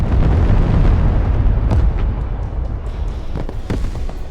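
Strike Eagle airstrike bombing in the Broken Arrow battle game: loud rumbling explosions and blasts rolling on continuously, heaviest at first and easing off, with sharp crackling bursts and pops later, no talking.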